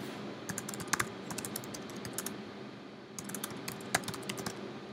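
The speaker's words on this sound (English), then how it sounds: "So I could type here" Fingers type on a computer keyboard in two quick bursts of close, crisp key clicks, with a brief pause between them, over a quiet room background and no speech.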